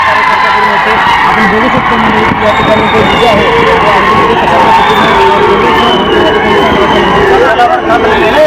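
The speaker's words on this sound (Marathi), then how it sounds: "किरण पांढरे यांना उचलून घेत शेकापच्या कार्यकर्त्यांनी मोठा जल्लोष व्यक्त केलेला आहे" Supporters at a Shetkari Kamgar Paksha victory rally lift up a candidate amid loud, continuous crowd noise, with cheering, shouts and whoops blending into a dense roar close by.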